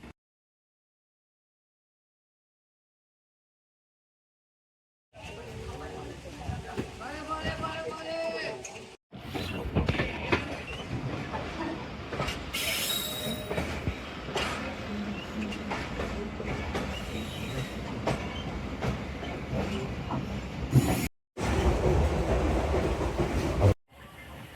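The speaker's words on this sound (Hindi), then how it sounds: "11:57 पे हमारा डिपार्चर हो चुका है मियाँ चन्नू से।" Tezgam Express train pulls away from a station after a silent start, a steady rumble of wagons rolling on rails with some clatter, while someone talks over it.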